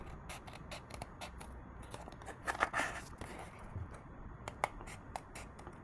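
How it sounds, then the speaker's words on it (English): Quiet, close snips of scissors cutting paper, an irregular series of crisp clicks with light rustling in between. "Take a good pair of scissors, and I'm going to be cutting the outside of our contour first"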